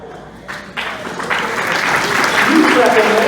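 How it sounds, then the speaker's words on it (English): Applause from the audience at a fraternity black tie ball rises in stages, swelling into steady, fairly loud clapping that fills the room, with voices mixed in. "You clap on that."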